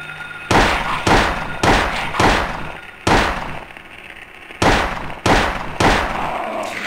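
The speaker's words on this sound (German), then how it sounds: "Der schießt auch wirklich bloß auf den einen, der schon tot ist, halb" Gunfire in the video game Silent Hill: seven loud, sharp single shots at uneven intervals of about half a second to a second, each with a short echoing tail, close and clear, with no talk over them.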